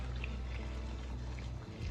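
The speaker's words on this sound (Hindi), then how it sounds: "अब इस स्टेज में हम ऐड करेंगे गरम पानी।" Hot water poured into frying mutton curry, a short steady gush of pouring liquid over a continuous low background hiss.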